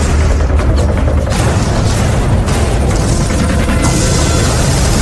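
Cannon bombardment during the British shelling of Surabaya, a dense, continuous rumble of heavy booms and blasts that stays loud and sustained throughout, with no pauses between explosions.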